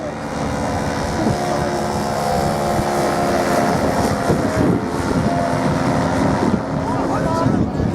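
A paramotor flies over the Shoreham airshow, its propeller engine droning steadily and loudly throughout with a harmonic whine, while a commentator's voice runs faintly underneath.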